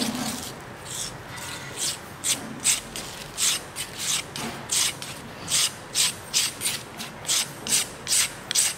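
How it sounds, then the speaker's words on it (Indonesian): A spatula repeatedly scrapes and smooths the surface of cement paste in a Vicat ring, giving a series of rhythmic rubbing strokes that come close, steady and regular. "kita akan meratakan permukaan bawah dari adonan ini menggunakan spatel"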